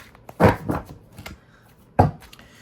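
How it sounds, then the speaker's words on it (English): Morbid Mirror oracle cards being shuffled by hand, two short crisp bursts of riffling and card slaps a second or so apart, close up and quiet, with no talking. "Let's give this a shuffle here."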